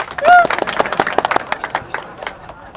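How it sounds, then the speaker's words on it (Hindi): Clapping and applause from the audience at a Republic Day school programme in a Rajasthani comedy sketch, a brief burst of many hands with a whistle-like tone at the start, moderately loud and fading over a few seconds. "तालियां"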